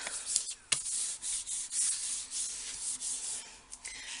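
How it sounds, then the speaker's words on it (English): A bone folder rubbed firmly over folded paper card, making repeated soft scratchy swipes close by, each stroke a brief rasp with short pauses between. "I'm just going to rub my bone folder over that just to press it down nicely"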